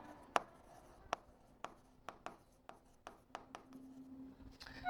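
Pen or pencil writing on paper during a math lesson, a quiet, close series of soft scratchy strokes and taps at an irregular pace, with no talking over it.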